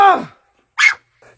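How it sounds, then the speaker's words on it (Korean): A dog gives a short, sharp bark up close, with a fainter yip about half a second later, after a brief vocal sound at the start. "짖지 마! 짖지 마! 짖지 마!"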